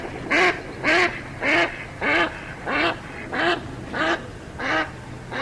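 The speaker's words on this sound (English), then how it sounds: "That's the sound of a duck." A duck quacks loudly and close by, about nine evenly spaced nasal quacks roughly every half second, with no other sound.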